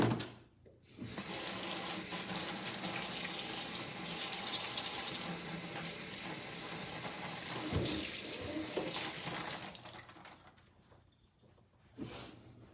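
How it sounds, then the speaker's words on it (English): Kitchen sink tap runs steadily for about ten seconds as hands are washed, a close, continuous rush of water that cuts off near the end, followed by a brief clatter. "Wash my hands again."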